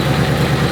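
A car engine runs loudly in an open engine bay, a steady, dense drone with constant rumble and no pauses, close and continuous throughout.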